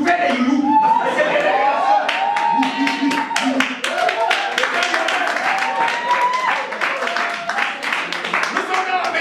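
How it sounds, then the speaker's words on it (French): A church congregation at a large French-language conference applauds and cheers together, with dense clapping, bright ululating calls and chatter sustained throughout. "vous pouvez vous lever de votre siège, vous vous mettez à applaudir."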